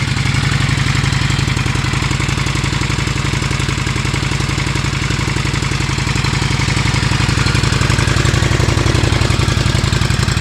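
A 2020 Honda Shadow Aero 750 motorcycle engine running at a steady idle, an even, loud, close low-pitched chugging rumble that holds unchanged throughout without any talk.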